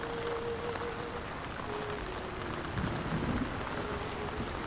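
Steady rain pours over a town in the video game Lord of the Rings: War in the North, a dense continuous hiss with a faint tonal hum and brief soft rumbles partway through, no voices.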